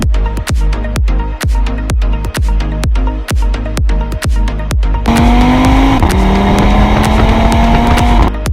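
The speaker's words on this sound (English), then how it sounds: "is a 2019 Audi RS3" A 2019 Audi RS3 engine revs up near the end, a strained rising drone that climbs, dips briefly and climbs again, after several seconds of sharp, evenly spaced clicks.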